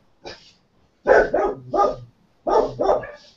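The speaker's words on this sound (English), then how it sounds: "Sorry, dogs. Woof." Dogs bark in the background of an online small-business round-table call, a single bark followed by two double bursts of loud, close barking with short pauses between them.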